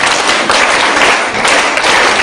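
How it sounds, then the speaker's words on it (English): A crowd at a school gathering breaks into loud, sustained applause, a thick and continuous roar of clapping with no pauses and no talk. "Can we give God a big round of applause,"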